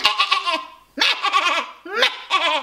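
A human voice imitates a lamb's bleat during a singing lesson, producing three short, wavering, nasal bleating calls in quick succession, close and clear with no other sound.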